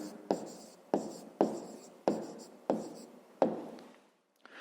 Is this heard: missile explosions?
no